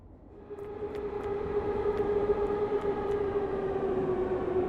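A train rumbles past in a video game on a foggy night. The sound is a sustained, building drone with a steady tonal hum and faint periodic clicks, close and continuous with no talk.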